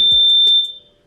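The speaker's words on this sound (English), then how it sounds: "What's up with the fire alarm?" A fire alarm sounds close by in a short, loud electronic beep that quickly decays, with no voices.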